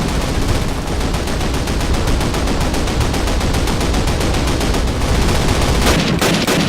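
Dense, continuous gunfire in a Call of Duty (2003) combat scene, rapid rattling bursts layered into a loud, steady fusillade with a sharper crack near the end.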